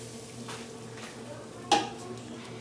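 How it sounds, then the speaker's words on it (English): Milk is stirred slowly into a batter as it is poured, giving a soft, steady swishing with a faint low hum behind it and one light clink of utensil against the bowl. "I'm just mixing that in slowly as I pour."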